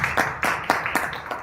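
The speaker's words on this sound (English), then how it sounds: "round of applause" An audience at a business expo presentation applauds, with a short run of fairly close, rhythmic hand claps spaced at steady intervals.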